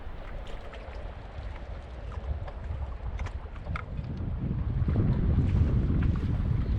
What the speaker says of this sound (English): we're going to weigh anchor and see if we can go sail up to it